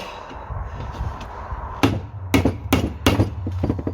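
A hammer strikes a chisel to peel back rubber on a rear wishbone bushing of a 2004 Audi A4 B6, with about five sharp metallic blows at an irregular pace, close and loud, following quieter scraping.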